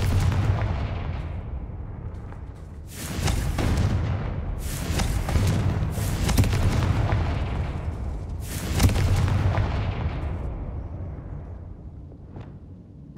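Spell blasts go off in the Hogwarts Legacy video game as four or five loud, booming explosions, each with a long rumbling tail, over a low ambient bed.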